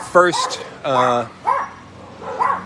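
Dogs in an animal shelter kennel give a few sharp barks and yips, loud and close, with whiny tones between them and a person talking over part of it.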